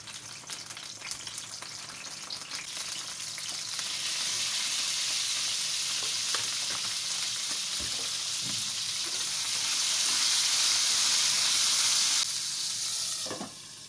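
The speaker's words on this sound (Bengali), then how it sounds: "তেল দিয়ে দিয়েছি এবার বেগুনগুলো দিয়ে দেব" Eggplant pieces fry in hot oil in a pan on a home gas stove, a steady sizzle that swells louder after a few seconds and holds, with light crackles and stirring scrapes.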